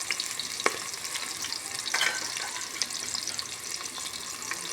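Cumin, a large onion and bay leaves frying in hot oil in a cooking pot, a soft steady sizzle with faint crackles and a few light clinks, fairly quiet and with no talk.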